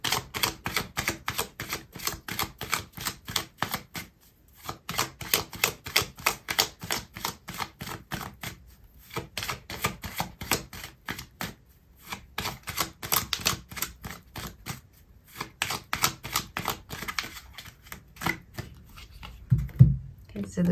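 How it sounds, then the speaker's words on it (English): Tarot cards shuffled and drawn for a reading, a close, brisk run of riffling bursts in a steady rhythm, broken by brief pauses before the pattern starts again. "Okay, so I'm going to pull out another card for you"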